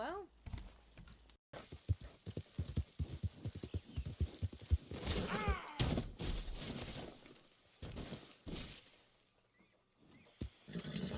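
Horse hooves clip-clop in an uneven run of hard knocks, heard under people talking.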